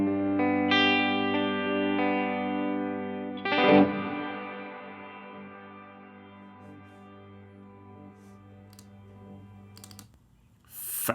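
Electric guitar played through Native Instruments Guitar Rig 6 modulation effects, a sustained chord shimmering and swirling with chorus-like movement, a second strum around the middle, then a long fading tail and a few clicks at the end.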